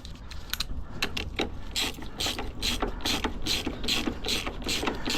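Ratcheting clicks from tightening a nut on an Invacare TDX SP wheelchair motor, a rapid, even series of sharp metallic ticks close by, repeating steadily throughout with no talking.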